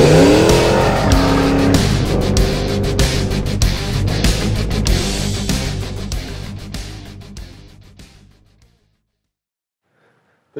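A loud 1970 Chevelle muscle car engine roars and accelerates close by, the revving rising in pitch before fading away into near silence.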